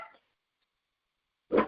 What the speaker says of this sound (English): we don't hear dogs.